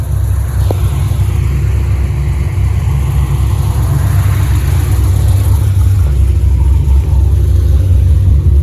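Following a body swap, a car rolls along on a short test drive, its engine and road noise forming a loud, constant low rumble inside the cabin with no speech.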